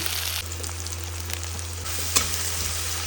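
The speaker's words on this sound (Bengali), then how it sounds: "জিরে আর শুকনো লঙ্কা ফোড়ন দেবো" Cumin seeds and dried red chilies crackle and sizzle steadily in hot cooking oil, with a constant busy hiss, a low background hum and one sharp pop near the end.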